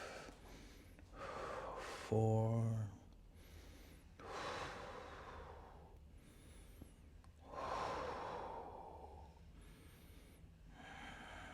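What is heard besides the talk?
conscious breathing during yoga reverse triangle pose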